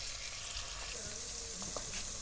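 Green chillies and masala fry in a pan for masoor dal, making a faint, steady sizzle with a couple of light stirring scrapes.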